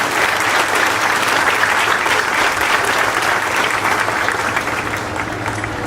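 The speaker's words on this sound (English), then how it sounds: "Yes, give a round of applause, please." A high school commencement crowd applauds steadily, broad and dense clapping from a large gathering that holds throughout.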